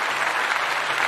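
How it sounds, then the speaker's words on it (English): A livestreamed dating talk show audience applauds with a steady wash of dense clapping, loud and close, holding evenly for about a second with no voices rising above it. "So give yourselves a round of applause"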